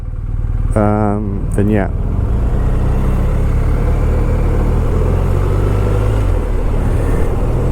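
A motorcycle rides along a road on a spring day, its engine droning steadily and loudly throughout while wind rushes past and a rider's voice talks briefly over it.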